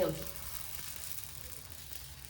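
Food frying in hot oil in a home kitchen, a steady broadband sizzle that stays close and even throughout, opening with a brief louder burst and faint background noises, no clear talk.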